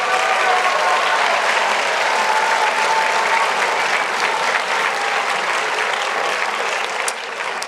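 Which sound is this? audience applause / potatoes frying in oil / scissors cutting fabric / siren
audience applause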